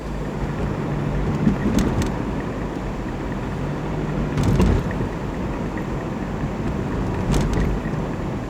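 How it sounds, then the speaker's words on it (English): Steady wash of road traffic at a busy city intersection after dark, a continuous low engine and tyre rumble with a few louder vehicles passing close by, no talking. "Traffic. Yeah, this intersection gets pretty bad."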